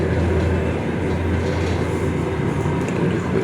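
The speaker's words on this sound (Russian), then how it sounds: "О, поезд." A train passes through a railway station in Abdulino, Orenburg region, giving a loud, continuous low rumble and rolling roar with faint clatter of wagons, close by and steady throughout.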